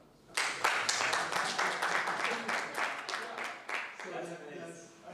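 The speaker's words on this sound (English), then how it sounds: "Let's clap." A crowd claps steadily for several seconds, dense applause that tapers off near the end.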